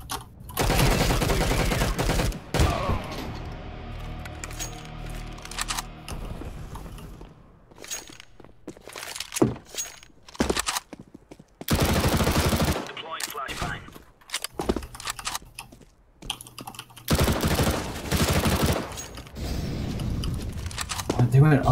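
Rapid bursts of video game gunfire crackle through a tactical shooter match, loud and repeated in several clusters with gaps between, while players talk over the shots and footsteps.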